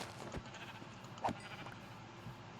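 A sheep in the video game Minecraft lets out a short bleat amid faint background ambience, quiet and somewhat distant.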